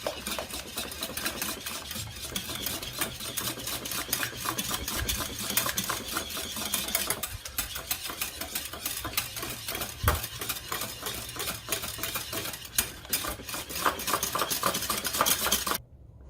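Milk being stirred into an egg mixture for classic French toast: a steady, busy scraping and clinking of a utensil against a bowl, continuous and fairly close for the whole stretch, with no talking.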